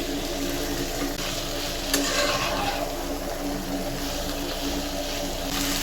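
Yardlong beans frying with onion and chopped garlic in a pan, a dense, loud, continuous sizzle with faint stirring underneath, close and unbroken, with no voices.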